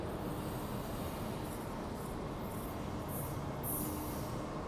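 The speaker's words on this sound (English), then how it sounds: "There go that train." An Amtrak Capital Corridor passenger train passes through the Oakland Coliseum station: a loud, continuous rumble of wheels and rail noise with faint squealing hiss bursts, steady throughout and close by.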